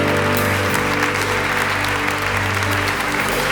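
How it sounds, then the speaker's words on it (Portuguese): A church congregation applauding, dense sustained clapping from many hands filling the room, with a faint hum underneath. "vamos aplaudir ao Senhor."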